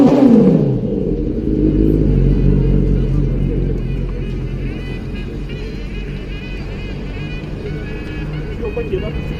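A Honda Transalp 650 motorcycle engine rumbles loud and close while riding, rising in pitch at first, then holding a steady drone with wind noise. Someone talks over it.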